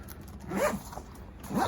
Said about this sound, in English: Zip before you move on.